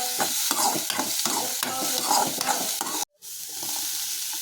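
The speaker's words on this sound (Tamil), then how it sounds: "பூண்டு நல்லா வதங்கினதுக்கப்புறம் நம்ம கட் பண்ணி வச்சுருக்க வெங்காயம் சேர்த்துக்கலாம்." Chopped onions and garlic frying in a pan for cabbage soup, with a steady close sizzle broken by rhythmic stirring scrapes, then a brief break before the sizzling resumes alone.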